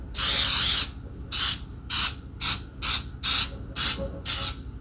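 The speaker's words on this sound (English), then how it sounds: "Now I'm gonna use my baking spray to coat and line my baking pan." Close, hissing bursts of baking spray onto a loaf pan, one long blast followed by about seven short rhythmic sprays with quiet pauses between.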